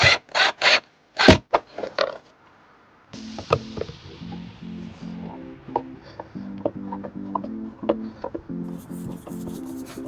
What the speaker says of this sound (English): Get these screws down in here.